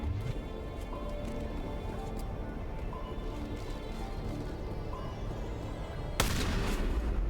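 Assault rifle and shotgun fire in the Mass Effect shooter game crackles through a dense battle mix, with an extra loud burst of shots near the end.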